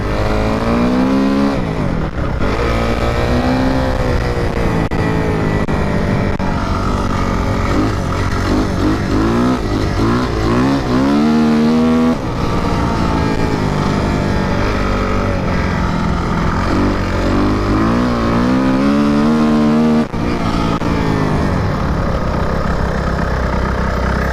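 Kawasaki KXF 250 motocross bike engine revving hard, repeated rising and falling throttle sweeps with a loud buzzy four-stroke tone, close to the microphone and sustained with brief dips between gear changes.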